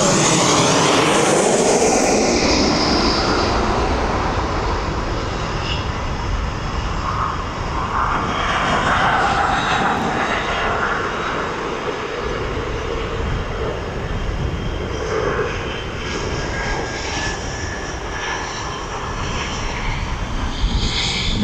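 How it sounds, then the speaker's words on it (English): A Ryanair jet airliner passes overhead at East Midlands Airport, its broad engine roar loud and steady for the whole stretch, swelling and slowly shifting in tone as it flies over, with no talk. "I'll get that Ryanair as it sort of comes over the top."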